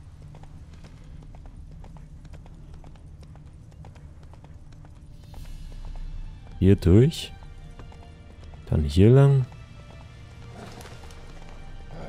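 A horse's hooves clip-clop in a steady rhythm in The Witcher 3, fairly quiet throughout, with two short bursts of someone talking over them.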